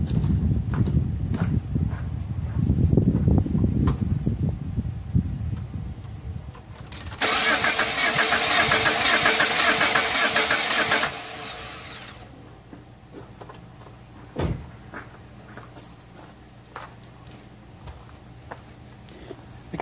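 A car engine with a blown-engine history being cranked over, a loud steady whirring burst of several seconds in the middle, preceded by rumbling handling noise and followed by quieter clicks.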